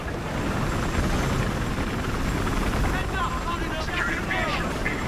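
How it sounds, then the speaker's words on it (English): Enemy helicopter in the online multiplayer shooter Battlefield Hardline on PS4 Pro, a loud, steady rotor and engine roar that fills the whole stretch without letting up. "Where's that enemy helicopter?"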